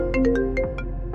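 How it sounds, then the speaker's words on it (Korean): A detective's mobile phone rings urgently in a short, loud burst of rapid electronic tones. "박 형사의 휴대폰이 다급하게 울렸다"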